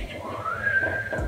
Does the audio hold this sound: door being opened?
no